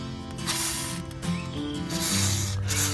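A can of WD-40 gel lubricant hisses in close, steady bursts as it is sprayed onto the rear driveshaft bolts of a Jeep WJ 4.0.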